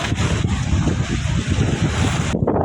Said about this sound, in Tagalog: Ito yung maalon talaga. Sobrang lakas ng alon guys.